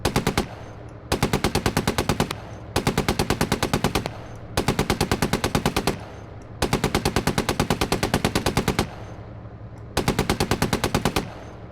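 An M2 machine gun on an M113 armored carrier firing in the game ArmA, six loud sustained rapid-fire bursts of about a second or more each, separated by short pauses, no voices.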